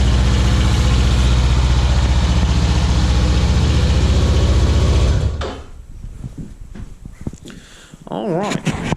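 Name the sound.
powersport vehicle engine idling after cold start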